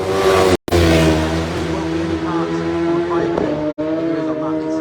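A Grand Prix racing motorcycle engine screams at high revs during TT 2023 qualifying, steady and loud with shifting pitch, cutting out briefly twice before winding on.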